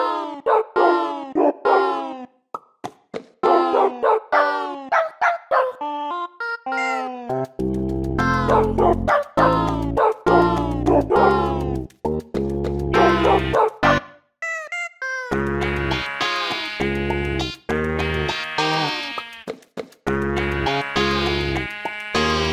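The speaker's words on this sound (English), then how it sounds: "Welcome Horizons, recreated with only Minecraft animal sounds." A musical arrangement of the Animal Crossing New Horizons main theme built entirely from Minecraft animal sounds, with pitched meows, barks and bleats forming the melody over a pulsing low bassline, loud and continuous with no talking.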